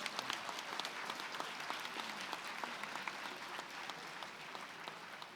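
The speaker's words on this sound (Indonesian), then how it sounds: "Kita berikan aplaus." An audience at a joint parliamentary session of Indonesia's DPR and DPD gives sustained, even applause for the Gita Bahana Nusantara choir and orchestra, heard at a distance as a dense wash of clapping.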